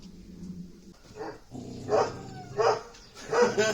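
A dog barks several times in short, spaced bursts, fairly close, with a low rumble of background noise between the barks.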